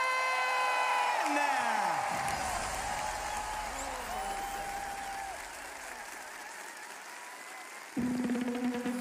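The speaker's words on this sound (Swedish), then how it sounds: "en stor applåd för Melodifestivalens vinnare" A large arena audience at Melodifestivalen applauds and cheers the contest winner, sustained crowd applause with whoops under a host's voice and music, a louder burst arriving near the end.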